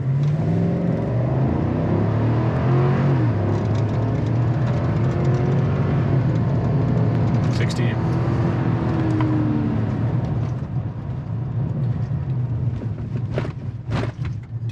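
A 2022 GMC Sierra 1500 Denali pickup truck with all-wheel drive accelerates hard from a standstill, its engine roar heard from inside climbing and sweeping through gear changes, steady and loud with no talking.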